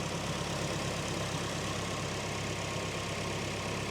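A 2000 Nissan Silvia S15 Spec R sits idling in its engine bay, a steady, even rumble heard close up with no stumbles and no voices.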